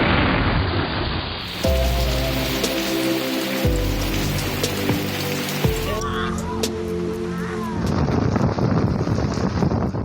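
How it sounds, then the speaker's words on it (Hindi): Rain falling on the streets of Karachi, a steady broadband hiss of drops on surfaces with some wind, continuous throughout with tonal background sounds in the middle section. "कराची में दिन 11 बजते ही मुख्तलिफ इलाकों में बारिश का सिलसिला शुरू हो गया"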